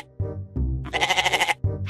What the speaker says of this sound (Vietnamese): Tiếng bê bê. Tiếng của con dê đấy.